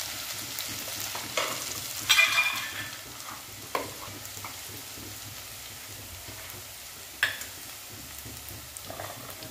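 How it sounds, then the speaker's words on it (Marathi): Crushed garlic and ginger fry with mustard seeds in a hot pan, giving a soft steady sizzle with occasional crackles and stirring clatters, fairly quiet and with no voices. "लसूण छान भाजून घ्यायचं आहे।"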